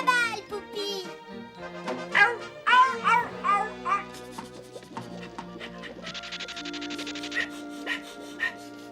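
Cartoon dog named Poupie barking and yipping in a Smurfs episode, several short barks and whimpers mixed with a child-like voice, music and effects, fairly close and lively.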